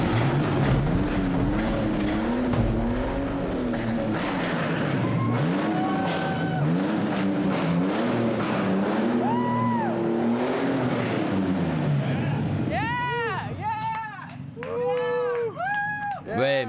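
A rewired car engine cranks, catches and revs repeatedly, a loud close roar rising and falling in pitch, with voices speaking over it and sharp bursts of high revving toward the end.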